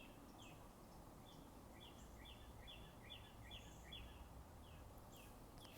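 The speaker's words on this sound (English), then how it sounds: "You hear them birds singing?" Faint birdsong outdoors, with two birds trading short repeated chirping phrases over a quiet, steady background hum, fairly distant and soft.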